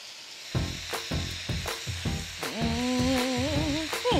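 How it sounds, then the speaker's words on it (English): Shrimp cooking in a pan with okra and tomatoes for a low-country ratatouille, close sizzling and frying with repeated stirring scrapes and a wavering tonal squeak partway through. "I'm just cooking the shrimp until it turns pink"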